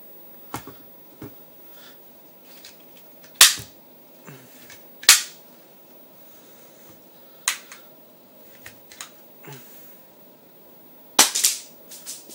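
A Yin Xing G.020 airsoft pistol is cocked and fired, giving several sharp isolated snaps spaced a few seconds apart along with quieter mechanical clicks, close up and without talking.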